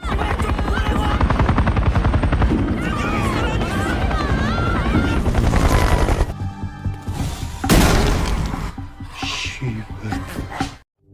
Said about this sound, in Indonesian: helikopter penyelamat telah pergi menjauh meninggalkan mereka sendirian